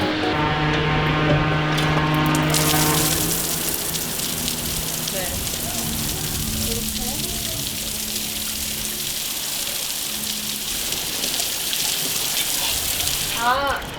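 Outdoor shower near the beach running in a steady hiss of falling water, loud and close, with a brief tonal sound at the start and another near the end.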